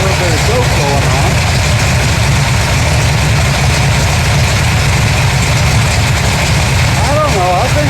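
A 426 Hemi crossram V8 idling steadily and loud, a dense low rumble throughout with brief revving blips at the start and end.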